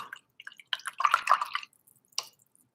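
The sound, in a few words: rinsing a paintbrush in water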